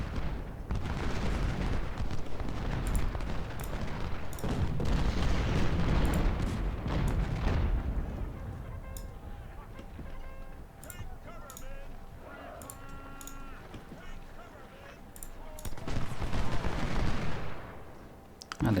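Cannon and rifle fire in Ultimate General: Civil War, at the Salem Church battle: booming artillery volleys and crackling musketry roll on continuously, with dense bursts at the start and again near the end, and occasional sharp single shots in between.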